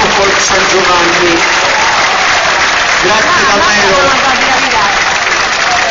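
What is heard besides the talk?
audience applause at folk festival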